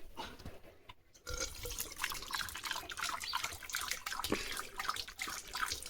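A dog laps water at home, a close run of quick wet splashy laps that carries on steadily after a short quiet gap at the start, with no talking.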